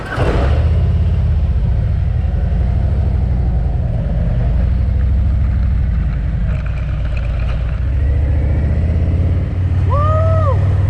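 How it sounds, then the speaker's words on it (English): Vehicles at a gas station, with a loud, close, steady engine rumble running throughout and a brief tonal chirp or squeal near the end. "We're at the gas station."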